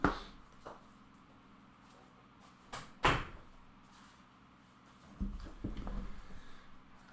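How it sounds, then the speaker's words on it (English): A door is shut indoors with a couple of soft knocks and a firmer thud, followed by a brief muffled rustle, quiet and close. "I'm just going to close the door because she's not going to stop barking."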